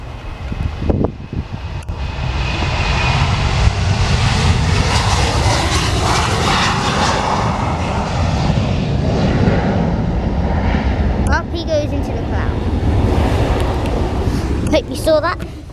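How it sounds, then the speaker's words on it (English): An airliner takes off at Bristol Airport, its engines a loud, sustained roar that swells and holds near the listener, with brief voices heard close by toward the end. "Guys, there's a plane taking off."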